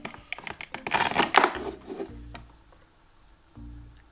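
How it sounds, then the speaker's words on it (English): A toy knife taps and scrapes through a toy beef patty in a play kitchen, a quick run of light plastic clicks and rubbing strokes, close and fairly quiet, then a few soft thuds. "We need to cut them in slices."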